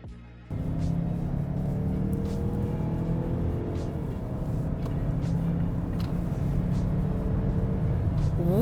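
A 2019 Mazda CX-5 Signature with a 2.5-liter turbo engine accelerates hard, its steady, rising engine drone heard from inside the car after a brief quieter start, with no talking.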